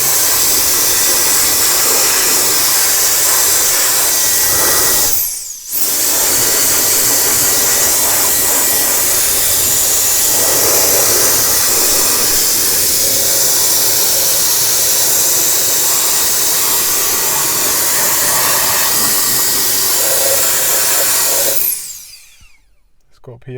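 A EUKI X3 turbofan electric air duster blows with its nozzle removed, a loud steady high-pitched jet-like whoosh that runs continuously, dips briefly once, then cuts off near the end.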